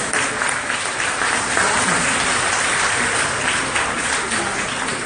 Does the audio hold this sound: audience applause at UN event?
yes